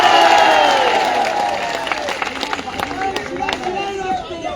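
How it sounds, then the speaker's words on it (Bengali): A crowd at an ISF political rally in Basanti breaks into loud clapping that gradually thins out, while voices carry over the applause. "একটু হাততালি হোক।"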